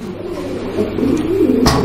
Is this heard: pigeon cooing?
yes